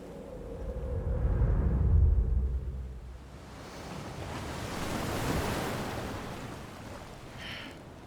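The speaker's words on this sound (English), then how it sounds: "Okay, that's a blood ocean." Rolling ocean surf in Death Stranding, with a deep, heavy swell building and fading over several seconds alongside windy rumble, then a softer, hissing wash of water.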